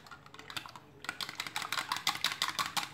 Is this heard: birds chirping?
no